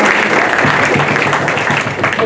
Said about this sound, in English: We can just give him a round of applause and thank him.